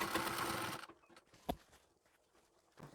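A sewing machine runs steadily for just under a second, stitching a saree border with the cloth guided by hand, then stops, leaving a few faint handling clicks and soft taps.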